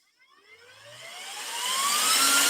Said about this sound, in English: if you want an RC fan that pushes some serious air